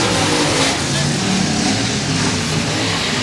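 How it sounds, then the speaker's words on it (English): A stock race car roars flat-out down a short-track speedway backstretch, a loud steady engine drone filling the whole stretch, with a commentator's voice faintly mixed in. "Something sounds different about Johnny Sheets' car, but either way, the car is flying down the back."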